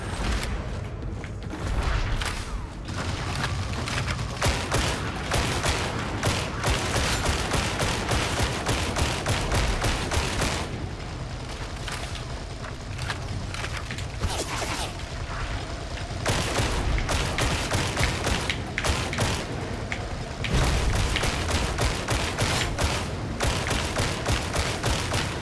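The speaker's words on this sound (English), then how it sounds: "If you're getting shot, shoot back. Suppress the enemy and drive them into cover." Dense gunfire from the video game Warhammer 40,000: Darktide (2022) fills a combat tutorial, with rapid, loud bursts and volleys that continue almost without pause, punctuated by heavy booms and mechanical clatter.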